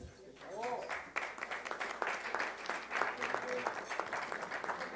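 Applause from the audience at a book presentation, steady clapping from a crowd that fills the room, with a voice speaking over it at the start.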